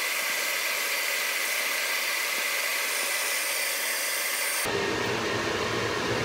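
An Antminer L3+ Litecoin miner starting up, its cooling fans giving off a loud, steady rushing whir that abruptly shifts to a fuller, deeper roar near the end.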